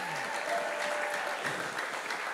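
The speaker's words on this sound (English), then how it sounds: "y'all better give God a clap in Jesus' name." Loud applause from a large church congregation, steady and sustained throughout, with some faint voices mixed in.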